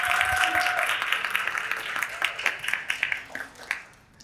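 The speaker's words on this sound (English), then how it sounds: "can we give a big applause to more other speakers here?" Audience applause for the speakers at a panel discussion on Myanmar, steady clapping from a room of listeners that thins into scattered individual claps before dying away.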